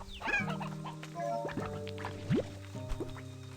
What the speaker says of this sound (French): Non, le coq, tu restes.